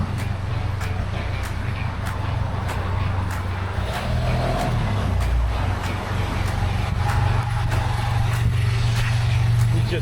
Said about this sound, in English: He's just parking a BMW.